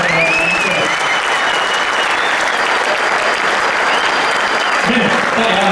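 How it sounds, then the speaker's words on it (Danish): Audience applause after an MMA fight at an arena event, a loud dense sustained clapping from a crowd throughout, with some cheering and voices mixed in. "Giv de to her en kæmpe hånd."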